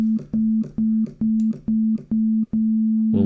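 Pure sine tones from Ableton's Operator synthesizer pulse in a steady repeating rhythm, about eight short beeps at one pitch, clean and fairly loud.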